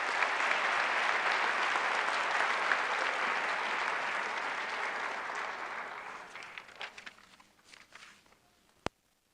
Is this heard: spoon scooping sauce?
no